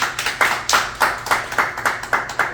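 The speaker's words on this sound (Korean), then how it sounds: "큰 박수 한번 쳐주세요" A gathering at a commemorative society meeting claps together in a slow, even rhythm, about ten distinct, close claps spaced roughly a quarter second apart.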